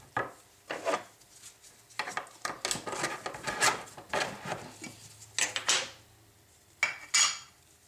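A can of Varathane wood stain is shaken by hand, giving close, loud bursts of metallic rattling and sloshing in uneven pulses with short pauses between them.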